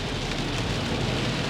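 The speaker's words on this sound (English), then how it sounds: "Look at the rain." Heavy rain pours down in a steady, dense hiss on a miserable wet day in the American South, loud and unbroken from start to finish with no voices.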